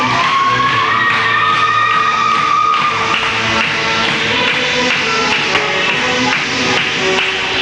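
A synchronized swimming qualifier crowd cheers enthusiastically in a steady, dense roar of voices with scattered shuffling and taps, loud and continuous, while music plays underneath.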